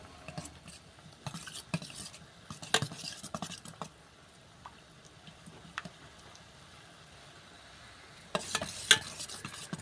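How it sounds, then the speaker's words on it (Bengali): A spoon scrapes and clinks in a pot while a soap base melts in hot water for homemade neem soap, quiet irregular stirring strokes with louder clattering bursts near the start and end, no voices. "নাড়তে নাড়তেই গলে এসছে দেখুন সোপেসটা গলে গেছে"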